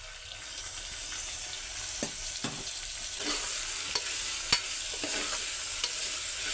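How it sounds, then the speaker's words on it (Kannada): Tomato, curry leaves and green chillies fry in a pan with a steady, close sizzle, broken by a few sharp stirring clicks and scrapes of a spoon against the pan. "ಅದನ್ನು ಫ್ರೈ ಮಾಡ್ಕೊಳ್ಳೋಣ. ಈಗ ಟೊಮೆಟೊ ಹಾಕ್ತಾಯಿದ್ದೀನಿ."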